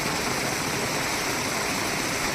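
Heavy monsoon rainwater rushes down a flight of steps in Ambaji, a dense, unbroken gushing wash that stays loud and constant throughout.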